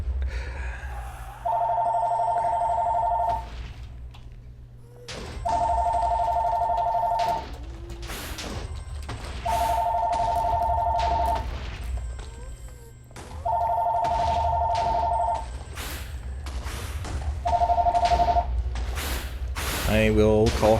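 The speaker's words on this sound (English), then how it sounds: "now my cell phone is ringing" A phone rings in five repeated electronic bursts, fairly loud and close, with mechanical clicking and rustling between rings.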